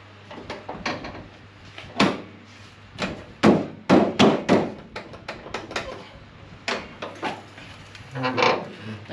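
Hammer blows land on car body metal during panel adjustment, an irregular run of sharp knocks and thuds in bursts with short pauses, fairly close and without speech.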